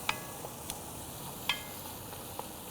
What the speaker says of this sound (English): We'll start to scrape up some of those browned bits from the bottom.